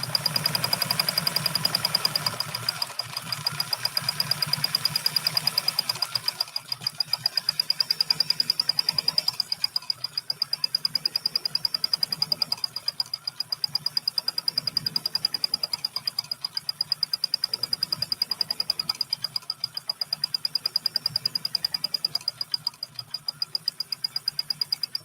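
A post-WWII vintage Japanese sewing machine stitches steadily, with a loud, continuous, rapid mechanical whir and fast rhythmic pulsing that runs unbroken for a long stretch.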